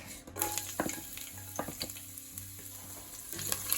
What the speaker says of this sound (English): Let's start with some olive oil in the pan. Then we'll add the garlic.